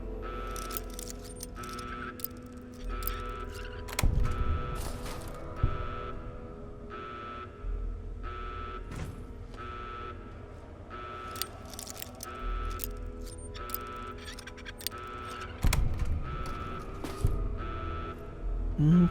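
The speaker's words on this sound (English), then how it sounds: "A lot of lock picking." Lock picking in a Fallout game gives a long run of small metallic clicks and scrapes over a steady low hum, with occasional louder clunks and no talking.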